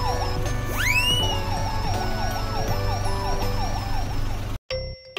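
A cartoon police car siren wails in a repeating up-and-down pattern over background music and sound effects, loud and close, cutting off abruptly near the end.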